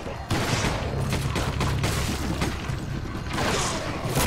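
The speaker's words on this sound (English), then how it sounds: "they're shooting Ebola cannons" Dense, continuous booming cannon fire in Resident Evil 5 fills the stretch, heavy blasts overlapping in a steady barrage at close range, with a faint voice now and then.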